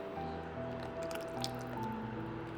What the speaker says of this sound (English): Add tamarind concentrate to round out the flavor.